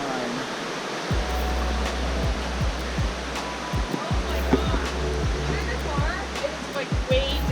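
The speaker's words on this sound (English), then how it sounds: "it's so awesome right here on the river. Just super cool to hear that sound all the time." A river flows past an RV park as a steady, full rush of water. Low rumbling bumps sit beneath the water noise, and no one speaks.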